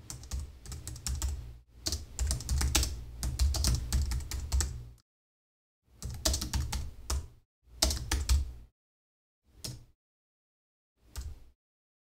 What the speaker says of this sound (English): we're just going to type this text the same as we had in the button on the left here